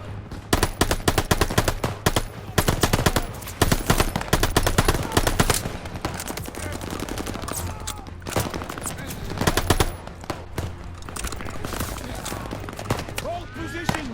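Machine gun fire in the World War II shooter Call of Duty: Vanguard rattles in dense, continuous bursts from several guns throughout, loud and close, with shouting voices mixed in.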